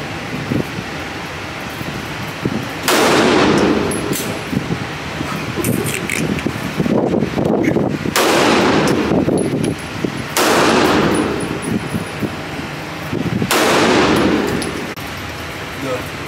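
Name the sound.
gunshots at a gun range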